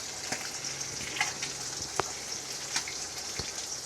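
Steady hissing, splashing rush of starchy water poured off cooked rice through a strainer, close and fairly loud, with a few small knocks of the pot and no talking.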